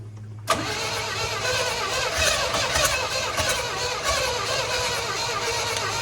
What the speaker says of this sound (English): Go ahead and work the throttle. Hold the throttle open.